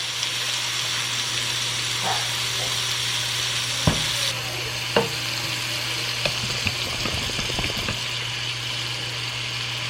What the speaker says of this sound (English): I'm also going to add in here about half a stick of butter.